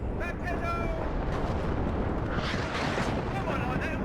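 Rocket artillery barrage in the real-time strategy game WARNO, a dense continuous rumble of overlapping explosions with sharper bursts rolling in partway through, loud and sustained, with a voice talking over it.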